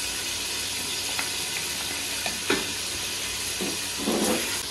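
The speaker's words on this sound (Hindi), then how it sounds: "और अच्छे तरीके से चिकन को भूनेंगे जब तक चिकन अपना कलर चेंज ना कर ले।" Chicken fries with ginger garlic paste in a karahi, a steady loud sizzle and hiss with a few soft stirring scrapes, close, no talking.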